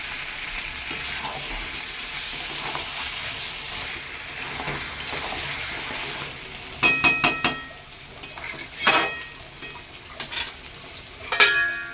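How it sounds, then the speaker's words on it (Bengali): Mutton being braised and stirred in a pot for pilaf and mutton curry, with a steady sizzle of frying throughout and louder scraping, clinking stirs breaking in near the end. "এদিকে আমার মাংস কষাচ্ছি এখনো"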